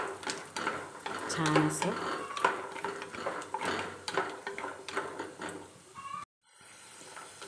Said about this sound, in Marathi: त्या तेलामध्ये आता हे शेंगदाणे आणि खोबरं टाकून घेऊ. ह्याला आपण मस्त असं खरपूस तेलात भाजून घेऊ.